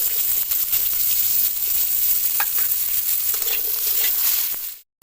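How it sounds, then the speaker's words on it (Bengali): Drumstick pods, papaya and mixed vegetables fry in a hot pan for shukto, a steady close sizzle with stirring scrapes that cuts off abruptly at the end. "সজনে পেঁপে একটু ভাজা হয়ে গেছে"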